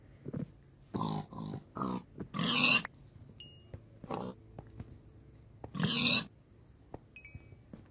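Minecraft pigs grunt and oink in a run of short, nasal bursts with brief gaps between them. Thin electronic game tones sound faintly between the calls.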